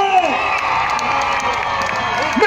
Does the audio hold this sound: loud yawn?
no